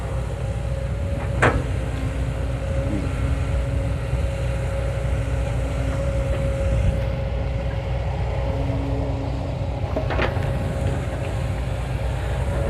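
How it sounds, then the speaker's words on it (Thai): Four-cylinder Mitsubishi diesel engine of about 93 hp idling steadily in a Kobelco LC40 Super excavator of roughly 13.5 tonnes: a continuous low rumble with a faint tonal whine, plus two brief clanks. No one speaks. "สำหรับตัวนี้นะครับ เครื่องยนต์มิซูบิชินะครับ"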